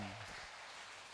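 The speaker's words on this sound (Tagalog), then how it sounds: "Palakpak sa Panginoon." A church congregation claps together in a brief, dense burst of applause that fades quickly.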